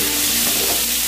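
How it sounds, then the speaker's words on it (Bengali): Pointed gourd pieces frying in hot oil with turmeric, a dense, loud, continuous sizzle heard up close for a brief moment, with no voices. "একটু হলুদ দিয়ে পটলগুলো দিয়ে ভালো করে পটলগুলোকে লাল লাল করে ভেজে নেব।"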